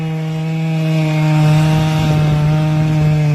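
A chainsaw cuts through a log, its engine droning loudly and evenly at high revs from start to finish, close by, with no voices.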